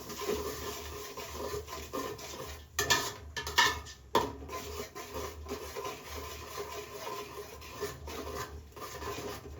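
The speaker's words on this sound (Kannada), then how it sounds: "ಇದನ್ನೆಲ್ಲ ಮಿಕ್ಸ್ ಮಾಡ್ಕೋಬೇಕು" A spoon stirs and scrapes through thick chicken biryani masala with tomato paste in a pot, giving repeated rubbing strokes and a few sharper scrapes against the metal, close up.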